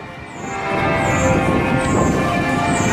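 Church bells ring loudly and continuously in Birmingham, England, near the Bullring shopping centre, layered tones swelling over a dense, steady wash of sound, with no voices.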